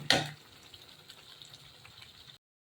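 Food frying in a pan for kaju rice, cooking until golden, a soft steady sizzle after a brief sharp clatter at the start, then silence.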